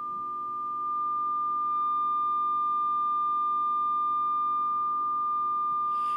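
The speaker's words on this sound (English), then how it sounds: "Now what you're hearing is you're hearing that tone on my receive side." A steady pure audio tone on the receive side of an amateur radio station running FM digital modes swells in loudness over the first seconds, then holds level with no one speaking.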